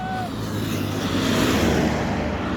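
Busy road traffic near a market in the Philippines: a steady, close roar of cars and other vehicles passing continuously, with a brief horn-like tone at the start.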